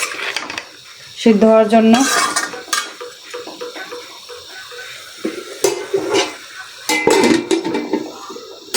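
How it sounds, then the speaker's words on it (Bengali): A spoon clanks and scrapes in a metal pot of curry with flat beans, potatoes and rohu fish, followed by a lid being set on with a metallic clatter, and someone speaks briefly. "এখন আমি একটা নাড়া দিয়া এটাকে এখন ঢেকে রেখে দেবো"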